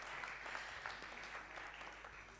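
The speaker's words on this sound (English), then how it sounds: "Can we give the judges a round of applause?" Audience applause at a West Africa business summit in 2022, clapping for the judges of a contest, a steady wash of hands that continues evenly through the clip at a moderate distance.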